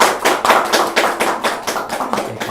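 Church congregation applauding after a baptism, a dense run of many hands clapping close by with a loose pulsing rhythm and no talk over it.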